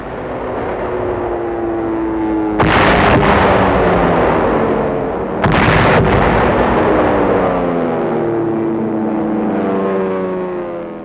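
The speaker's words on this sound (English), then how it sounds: "Coming in at low level, the B-25s blast holes in the walls, opening up the way for tanks and infantry." Delayed-action bombs from low-flying B-25s burst against fort walls in 1945 wartime footage: two loud, heavy blasts roll out over a sustained roar of aircraft engines.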